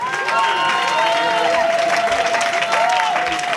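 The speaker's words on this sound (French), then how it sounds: "Il faut l'applaudir très fort." A crowd applauds loudly and steadily at a political gathering in Côte d'Ivoire, with a voice carrying over the clapping and a tone sounding through it.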